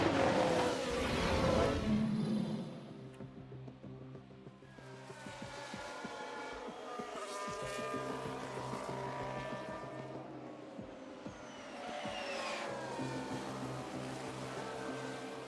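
Race cars in the F1 Manager 22 video game sweep past at a distance, their high engine whines rising and falling in several overlapping passes under a low, steady hum.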